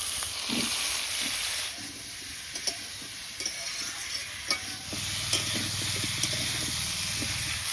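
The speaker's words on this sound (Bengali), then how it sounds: "চিংড়ি মাছ ভাজা ভাজা হয়ে গেছে, ওর মধ্যে এবার কেটে রাখা আলু, কলা জল থেকে ছেঁকে তুলে দিয়ে দিচ্ছি।" Prawns, potato and plantain fry in a hot wok over an earthen stove, giving a continuous close sizzle broken by occasional scraping stir strokes, with no talking.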